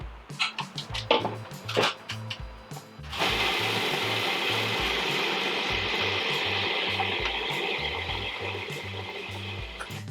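A food processor chops unsweetened shredded coconut for nut-free, dairy-free raspberry crumble bars, first in short choppy pulses, then settling into a steady, loud whirring grind that runs to the end.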